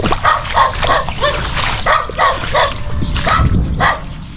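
A dog barks repeatedly in quick, rhythmic bursts over a rumbling background, close and fairly loud.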